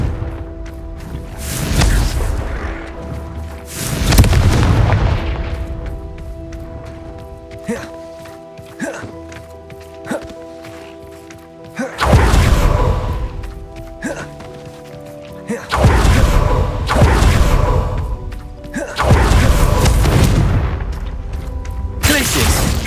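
Confringo spell explosions in the Hogwarts Legacy video game, several loud booming blasts in bursts with rumbling tails, mixed with game music and a voice shouting spell names.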